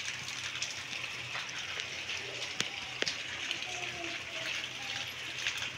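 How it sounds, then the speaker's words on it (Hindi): Heavy morning rain pours down steadily in a steady broadband hiss, with occasional sharp drips or taps standing out; no talk heard over it. "हमारे यहाँ पर देखिए कितनी तेज़ बारिश हो रही है"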